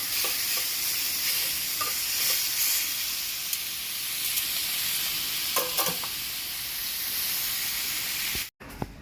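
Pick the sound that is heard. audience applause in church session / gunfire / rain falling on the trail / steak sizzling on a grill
steak sizzling on a grill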